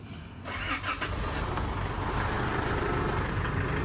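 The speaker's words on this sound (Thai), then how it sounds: "เดี๋ยวไปฟังเสียงเครื่องยนต์นะครับ" An Isuzu D-Max pickup truck engine runs steadily and loudly up close, a continuous rumble starting abruptly and holding even throughout.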